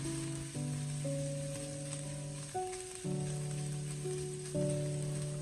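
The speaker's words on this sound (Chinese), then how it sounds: "我们再倒入切好的胡萝卜碎，充分的翻炒均匀，把胡萝卜炒出香味" Minced carrot stir-fried in a hot wok gives a steady, close sizzle that runs throughout, with melodic background music playing over it.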